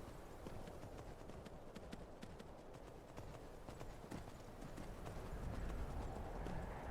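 A horse gallops in the video game Skyrim, its hoofbeats a steady, fast clip-clop that runs throughout and grows slightly louder toward the end.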